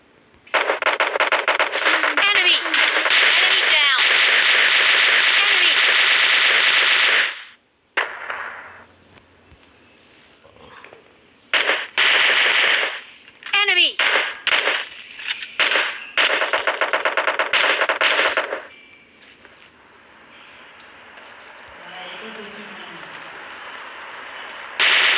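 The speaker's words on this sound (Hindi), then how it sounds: "इधर फायरिंग हो रही है" Automatic gunfire in the mobile battle-royale game PUBG Mobile rattles out in long, loud, dense bursts, one lasting about seven seconds and then several shorter volleys, before giving way to a quieter background.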